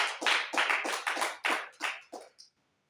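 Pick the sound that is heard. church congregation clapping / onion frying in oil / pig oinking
church congregation clapping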